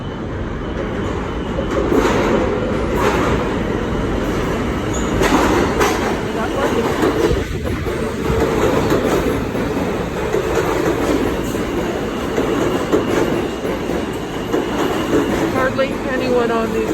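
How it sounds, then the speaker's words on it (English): A New York City subway train pulls into a station, a loud continuous rumble with clattering wheels and faint metallic squeals, heard up close from the platform. "Here's the train coming."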